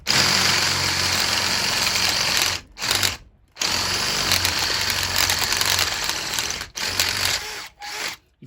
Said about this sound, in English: we'll drill this one bigger